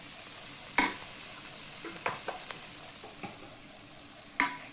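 Ground coriander and cumin frying in oil in a pan, a constant soft sizzle broken by occasional spoon clinks and scrapes against the metal.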